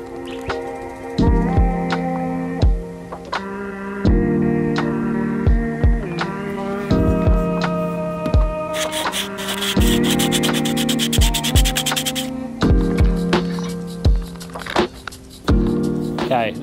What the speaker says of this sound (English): And now to start sanding.